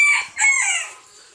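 Chickens cluck and squawk near a duck in a backyard pen, a few sharp, bright calls in quick succession that fade after the first second, with no voices.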